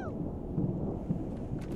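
Thunderstorm in The Sims 3 game: a continuous low rumble of thunder with steady rain hiss, moderately loud and without speech.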